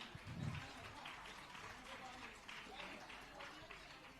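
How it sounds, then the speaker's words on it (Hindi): Audience applause at an award ceremony announcing camp toppers in Ashoknagar, a faint, steady wash of clapping that continues for several seconds with voices mixed in. "जोरदार तालियां आप लोगों की रुकनी नहीं चाहिए"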